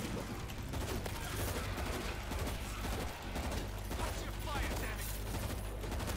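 Rapid bursts of gunfire aimed at zombies in the video game World War Z, a dense, continuous barrage of shots filling the whole stretch without letup.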